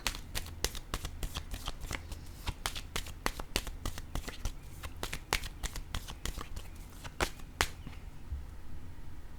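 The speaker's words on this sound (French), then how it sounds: "Là, je vais déposer une carte sur le vol" Tarot cards laid down one after another as the reader continues a spread, a long run of sharp papery snaps and flicks, close and fairly quiet, with no talking.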